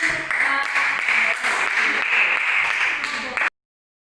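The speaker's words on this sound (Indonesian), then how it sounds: "Silakan tepuk tangan dulu." Classroom students clapping hands together in a short burst of applause, fairly loud and close, lasting about three and a half seconds before cutting off abruptly.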